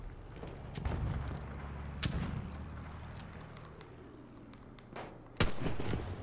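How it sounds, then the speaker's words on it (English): A lone gunshot from a Battlefield 1 match booms out loudly late in the scene, preceded by softer distant thumps and shots amid steady battlefield ambience. "Just took a random shot."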